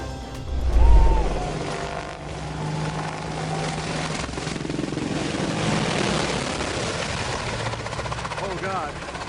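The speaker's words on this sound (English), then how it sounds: "A Russian Il-76 plane crashed after its engine caught fire shortly after takeoff." A Russian Il-76 plane with an engine on fire just after takeoff roars as a broad, sustained engine rumble heard from a distance outdoors. A loud low thump comes early, and people speak faintly over the noise.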